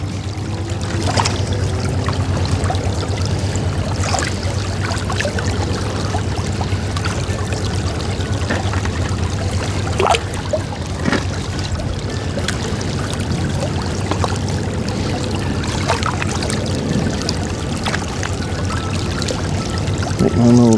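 Water pours and gurgles steadily through a small diversion in a creek during gold prospecting, close by, with scattered clunks and splashes from digging over the constant flow.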